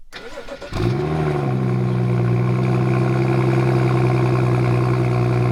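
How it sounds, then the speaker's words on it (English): BMW 435 with the N55 engine starting from cold: a quick starter crank catches into a loud flare-up, then settles to a steady, high cold idle hum, close and continuous. "let's just get to a cold start"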